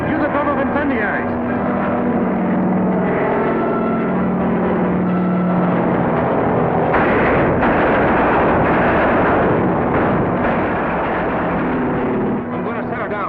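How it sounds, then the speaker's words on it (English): Bombs falling and exploding as a 1941 film serial sound effect, a dense continuous rumble of blasts under droning aircraft engine noise, loud throughout, with bursts swelling mid-clip and a voice briefly audible. "Keep dropping those bombs."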